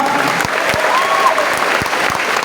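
An audience claps steadily throughout, a dense and even round of applause with a few sharper individual claps standing out, and no voices on top.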